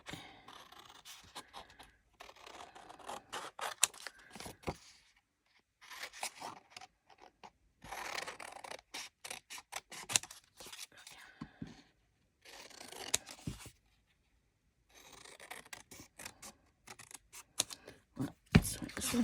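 Scissors snip through paper to cut out a small figure for a spooky craft, coming in quiet bursts of crisp cuts and rustles with pauses in between, with a voice speaking at times.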